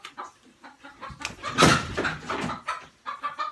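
Chickens cluck and squawk in a run of short, bright calls, with a louder burst of agitated squawking in the middle before the clucking settles back into scattered bursts.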